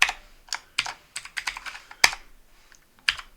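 Keystrokes on a computer keyboard while setting up a Windows 11 script file: about a dozen sharp clicks, irregular and spaced out, with a loud strike near the two-second mark, close up and alone without speech.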